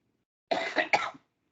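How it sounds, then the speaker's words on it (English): A person coughs in two or three harsh, close bursts with some throat clearing, alone and fairly quiet, during an online coding session. "I'll be coughing a lot."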